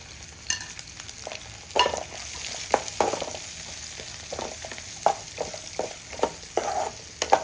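Ginger, curry leaves and carrot pieces frying in a pan, a continuous close sizzle punctuated by a series of stirring scrapes and clinks of the spoon at an irregular pace.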